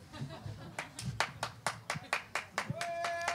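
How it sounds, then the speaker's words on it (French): One person clapping alone at a live French stage show, a steady run of about a dozen sharp claps, close and fairly loud, with a faint voice and a brief tone near the end. "est-ce que tu veux bien applaudir tout seul"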